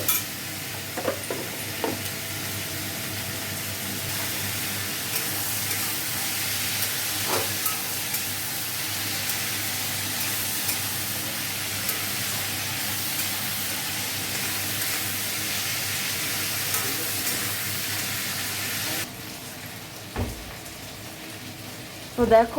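Latha fish fries in a pan with a steady, broad sizzle and hiss that runs for about twenty seconds, with occasional clinks of utensils, then quietens sharply near the end.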